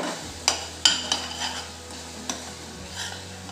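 Dry fruit halwa is stirred in a pan with a spoon, giving several distinct scraping clinks against the metal over a low, steady sizzle, close and alone.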